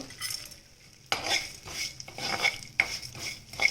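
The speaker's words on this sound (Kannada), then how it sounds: "ಹುರ್ಕೊಳ್ತಾ ಇದ್ದೀನಿ ನೋಡಿ ಇವಾಗ ಎಳ್ಳು ಹಾಕ್ತೀನಿ ಮತ್ತು ಮೆಣಸು" Sesame seeds and pepper are dry-roasted in a pan while a metal spoon stirs and scrapes, with sharp clinks and rattles over a faint sizzle and no talking.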